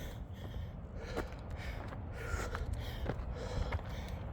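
Heavy, ragged breathing with gasps and snorts during a cardio and push-up workout challenge, close to the mic, in irregular bursts over steady low background noise.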